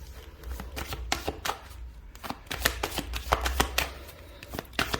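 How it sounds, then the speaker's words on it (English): An Astro Oracle deck of cards is riffled and shuffled up close, giving a rapid series of crisp flutters and slaps in uneven bursts, with no voice over it. "I'm now going to pull some cards from my Astro Oracle deck"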